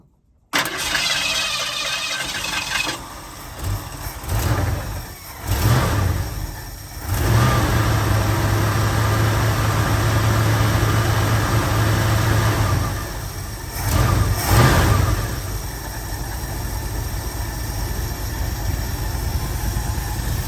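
A 1972 Ford Ranchero 500, unstarted for months, cranks and fires, then revs repeatedly and settles into a steady loud idle with a couple of further blips of the throttle, close up.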